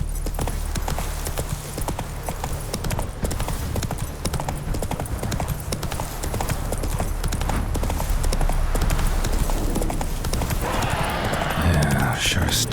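The horse Roach from The Witcher 3 gallops at speed, a steady rapid drumming of hooves running throughout amid game ambience, with a brief spoken line.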